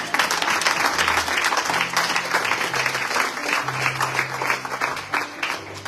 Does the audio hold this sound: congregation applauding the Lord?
yes